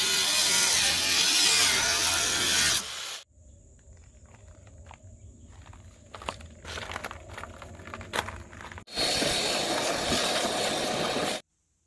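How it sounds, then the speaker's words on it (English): An angle grinder cuts excess aluminum off the replacement transom of a 12 ft aluminum jon boat, with loud harsh grinding bursts at the start and end and quieter scraping and clattering in between. "I'm going to go ahead and cut this excess metal off with an angle grinder"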